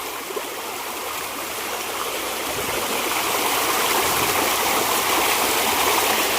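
Strong, steady rush of water flowing in a stream, a broad continuous roar that builds slightly louder over several seconds, close by with no voices.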